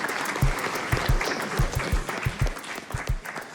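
A school assembly audience claps at a presentation for International Women's Day, scattered individual claps standing out over a soft crowd bed, moderately distant and fairly quiet.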